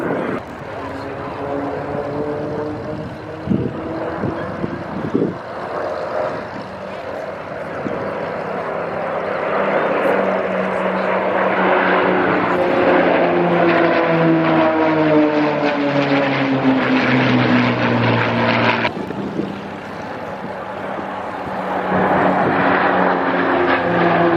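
Spitfire flying a display at Wings Over Wairarapa airshow: a sustained piston-engine drone with shifting pitch as it passes, loud and steady, rising toward the middle and easing near the end.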